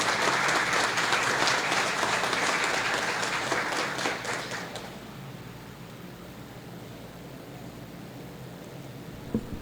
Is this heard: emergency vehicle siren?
no